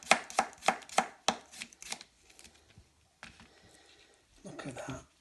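A home-grown cucumber sliced open with a knife: several crisp, close chopping cuts in quick succession, then quieter handling sounds and a faint voice.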